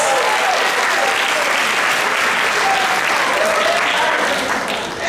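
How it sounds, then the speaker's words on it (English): Loud, dense round of applause from a large crowd at a school district convocation, sustained and even throughout before tapering slightly at the end. "Give them a round of applause."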